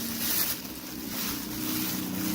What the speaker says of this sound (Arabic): وهحط في الصينية كوبايتين مية